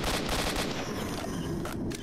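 Loud AK rifle fire in S.T.A.L.K.E.R. Shadow of Chernobyl, a rapid string of close automatic shots fading into a brief pause near the end, with no voices.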